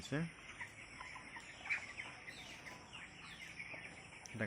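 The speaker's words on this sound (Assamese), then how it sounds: "এইটো মোৰ ফাৰ্ম হয়, ব্ৰইলাৰ ফাৰ্ম।" Broiler chickens on a poultry farm cluck and call steadily, a dense flock close by with one louder squawk near the start and end.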